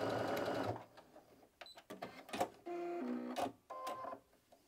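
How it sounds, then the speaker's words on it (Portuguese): Domestic sewing machine stitching a keychain strap on a fabric organizer, several short bursts of fast mechanical whirring as it sews forward and reverses to reinforce, with clicks and pauses between runs. "A gente pode costurar aqui várias vezes para ficar bem reforçadinho"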